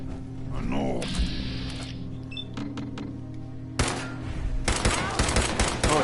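Semi-automatic gunfire in the video game Fallout 4, with several sharp single shots and short bursts cracking out over game ambience, some clustered late in the clip alongside mechanical clunks.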